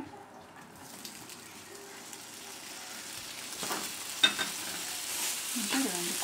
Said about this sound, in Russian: Выжариваем бекон.